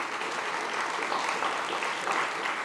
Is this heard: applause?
yes